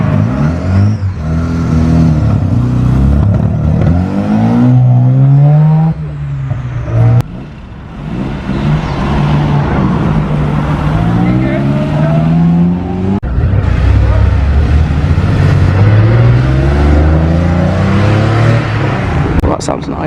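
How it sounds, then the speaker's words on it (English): A classic car with a rotary engine revs and drives by at a car show road run, loud and close, its engine note rising and falling in strong surges, with voices talking over it. "Rotary engine."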